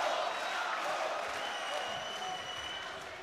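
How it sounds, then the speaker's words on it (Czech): A large crowd at an MMA event claps and cheers in a steady roar, sounding like rhythmic chanted applause filling a big arena. "od začátku slyšíme ten skandovaný potlesk"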